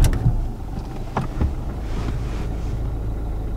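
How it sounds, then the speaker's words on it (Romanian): A Dacia Duster engine starts: a couple of sharp cranking bursts at the start, then a low, steady idle rumble settling in for the remainder, close to the microphone with no talking. "sau hai să pornim și motorul"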